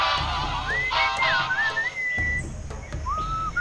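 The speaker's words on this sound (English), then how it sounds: "What is that enchanting whistling sound?" A melodic whistled tune in the adventure video game Sam & Max, gliding pitch lines rising and falling over a low rhythmic musical backing, fairly close and clear with no talking.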